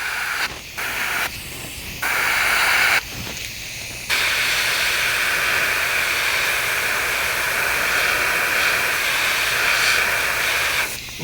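An airbrush sprays blue paint onto a fishing lure in a bluegill pattern, a loud, steady hiss near the microphone, broken by a few brief starts and stops early on, then running continuously.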